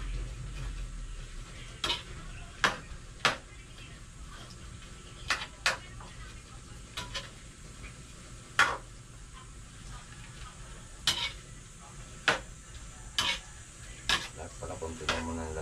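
Chicharon pork rinds frying in very hot oil: a steady sizzling bed with sharp, scattered pops and crackles at irregular intervals, close by.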